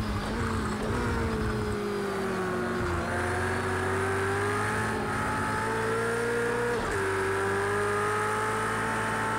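A Ferrari race car engine in Project CARS 2 holds a steady, loud, close drone through a race, its pitch rising and dipping with gear changes. It runs continuously with no talk.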